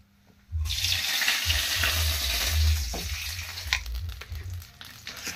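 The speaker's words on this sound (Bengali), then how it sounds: "এখন দিয়ে দেবো তেজপাতা আর শুকনো লঙ্কা।" Bay leaves and dried red chillies hit hot oil and break into a loud, close sizzle that starts suddenly and gradually settles to a softer crackle.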